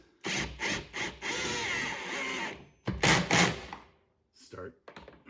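A power drill drives screws into a septic riser during a DIY septic system install, in several whirring bursts of varying length separated by brief silences.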